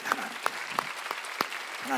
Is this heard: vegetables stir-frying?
no